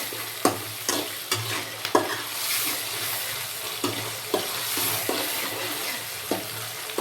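Onions frying in a pan for a Hyderabad chicken masala, a steady sizzle with sharp scrapes and knocks of stirring coming every second or so, close and alone.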